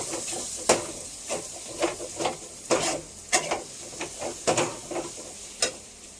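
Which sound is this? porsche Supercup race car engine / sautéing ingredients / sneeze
sautéing ingredients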